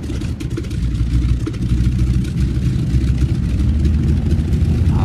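A de Havilland DHC-2 Beaver's radial aircraft engine, hot-started after clearing, runs as a steady loud low rumble close by, holding an even idle throughout with no voices.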